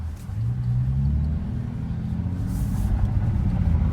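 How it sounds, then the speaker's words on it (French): A Bentley Continental GT Speed idles and rumbles in sport mode, a deep, low engine drone with a slight rise in pitch early on, steady and close. "vous commencez à entendre le bruit de la voiture qui est plus rauque"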